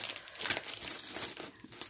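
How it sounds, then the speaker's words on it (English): Paper packaging crinkles and crackles close by in quick irregular bursts, moderately quiet and continuous, with no voices. "Sorry for the rustling."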